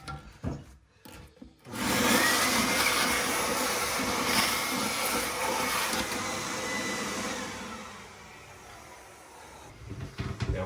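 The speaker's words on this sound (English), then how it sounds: "We're going to vacuum this water right out of the tank." A shop vac sucks water out of a toilet tank: after a couple of brief knocks, the motor roars up loud and steady with gurgling suction, then eases to a lower whine near the end.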